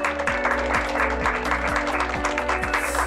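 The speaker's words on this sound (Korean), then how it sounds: "박수로 함께해 주십시오." An audience applauds warmly at a teachers' talk concert, with steady, dense clapping that fills the room at a constant level throughout.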